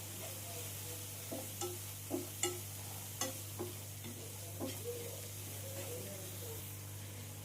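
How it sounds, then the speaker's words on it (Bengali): Onion, tomato, cumin and turmeric spice paste frying quietly in a pan while a spatula scrapes and taps in a series of distinct clicks over a low, steady sizzle, with a constant low hum underneath. "দিয়ে মশলাটা আমি ভালো করে পেঁয়াজ টমেটোর সাথে কষিয়ে নেব।"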